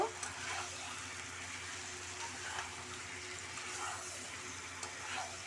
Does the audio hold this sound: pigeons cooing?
no